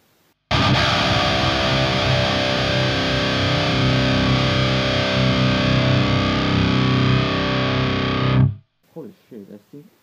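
Electric guitar driven through a high-gain booster pedal, a dense distorted chord-heavy riff played for about eight seconds, loud and close, cutting off abruptly before brief sounds at the end.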